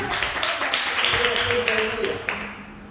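A church congregation claps for the Lord in a dense, continuous patter of many hands, reverberant and moderately loud, with voices mingling in the background.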